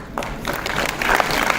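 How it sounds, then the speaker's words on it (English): Conference audience clapping in a hall, a short burst of scattered claps that swells slightly toward the end. "We need to keep the applause coming."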